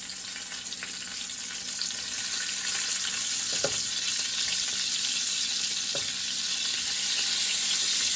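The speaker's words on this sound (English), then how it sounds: "I wanted to take its time and cook in this here bacon grease" Raccoon meat fries in bacon grease with a steady, close, crackling sizzle that fills the whole stretch, plus a couple of faint scrapes from turning the meat and no voices.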